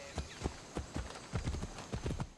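Hooves of Abraxas, a horse in the video game Assassin's Creed Odyssey, clip-clop in a steady trotting rhythm of close, distinct footfalls, about a dozen in quick succession with no talk over them.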